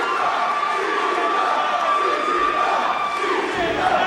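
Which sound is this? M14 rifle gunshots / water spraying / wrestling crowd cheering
wrestling crowd cheering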